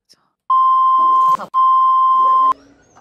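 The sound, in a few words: censorship bleeps over speech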